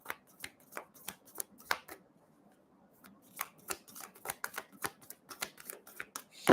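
Moonology oracle cards are shuffled by hand, giving soft, close riffling clicks in quick irregular bursts with a short lull in the middle and no speech.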